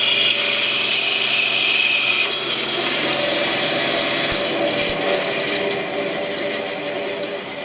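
Steady, loud whine of a table saw cutting a wooden pen blank, grinding continuously and tapering off slightly near the end.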